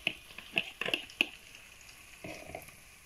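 An omelette cooks gently in a pan over low heat, giving a faint, soft sizzle broken by a few light clicks and taps in the first second or so.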